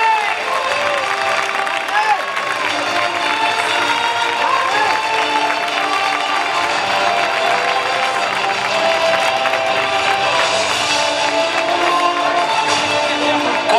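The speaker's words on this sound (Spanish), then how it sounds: "Esteban Cervera y Héctor Sánchez. ¡Fuerte el aplauso!" Spectators at a bull-leaping contest in Peralejos de Abajo keep up a loud, continuous wash of clapping mixed with crowd noise and cheers, an announcer calling out over the din.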